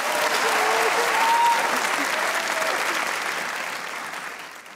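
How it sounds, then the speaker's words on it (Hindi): Studio audience applauding at a Pakistani Eid comedy show, a steady dense wash of clapping that holds strong and then slowly fades, with a faint voice briefly audible underneath. "तालियां बजाएं"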